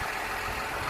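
A small 125-horsepower farm tractor idles close by with a steady, even low rumble for a single second.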